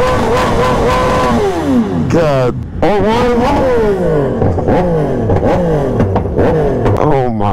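An Aprilia RS660 motorcycle revs loudly and repeatedly during a test ride, its pitch climbing and dropping through gear changes, close and dominant, with a brief spoken exclamation over it.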